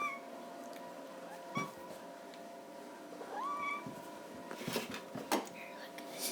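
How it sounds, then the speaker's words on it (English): A one-year-old house cat meows several times indoors, short rising calls scattered among soft whispering and household noises, fairly close but quiet. "This is my cat, Ellie."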